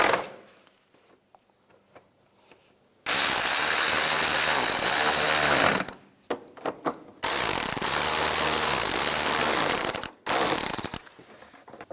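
A power tool drives screws into a windshield washer reservoir on a 2010-2017 Chevy Equinox, giving two loud, sustained bursts of whirring and ratcheting, each about three seconds long, separated by brief clicks and pauses.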